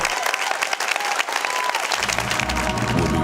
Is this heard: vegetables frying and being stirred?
no